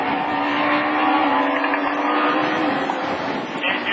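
A Super 1600 rallycross race car engine drones steadily at a rallycross meeting in Lessay, Manche, heard from a distance as a sustained, fairly constant roar with faint commentary over it.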